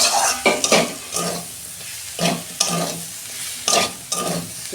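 Tomato and spice masala for Bengali-style gathi kochu sautés in a pan, a steady sizzle punctuated by regular, close scraping strokes of a spatula stirring the mixture, with no talking.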